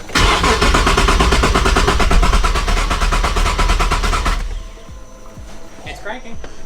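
Garage-built 2023 Nissan Z fitted with a VR twin turbo engine cranking on the starter: a loud, steady, rapid chugging rhythm for about four seconds, then cutting off to quiet background clatter.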